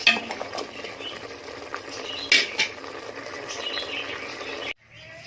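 Beef for korma fries in a pot while a utensil stirs and scrapes against the metal, with a couple of sharper clinks, then the sound stops abruptly.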